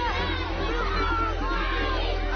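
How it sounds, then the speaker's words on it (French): A crowd of villagers in Mali cheers as journalists' pickup trucks pass, a dense, steady wash of shouting and excited voices from many people at once. "Les habitants acclament les pick-up des journalistes"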